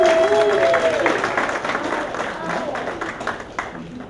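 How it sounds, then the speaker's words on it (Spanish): Audience applause at a Mexican book presentation, a burst of clapping from a seated crowd that tapers off over a few seconds, mixed with some voices. "Le damos un aplauso otra vez."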